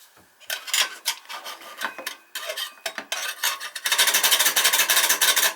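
A tool scrapes carbon off an oil burner head during a routine service, giving close, irregular metallic scratching bursts that build into a denser, continuous grinding rasp toward the end.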